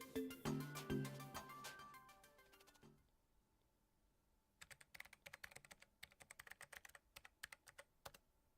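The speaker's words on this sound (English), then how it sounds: "I was wakened by the comforting typing of sound on the keyboard." Keyboard typing from the game Collar X Malice: a quick run of key clicks in the second half, following a fading musical chime passage with no voices.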